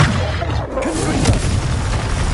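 A Confringo blasting spell detonates in Hogwarts Legacy, giving a loud, booming burst that fills the whole moment with dense, rumbling noise and no clear pauses.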